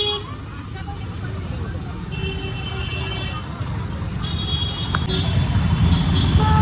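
Dense, heavy street traffic in Varanasi, a continuous roar of engines close by with repeated car and bus horns honking throughout, and a voice talking over the din.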